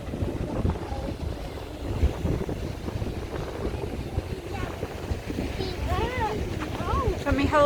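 Wind blows at the beach in Rhyl, a constant low rumble buffeting the microphone throughout, with voices talking over it near the end.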